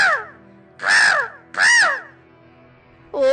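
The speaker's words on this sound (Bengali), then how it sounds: "বউ দেখো দেখো, কতগুলো পাখি এদিকেই তাকিয়ে আছে" Crows caw in a cartoon carrot field, three loud, harsh calls spaced about half a second apart, close by, followed by the start of a fourth call.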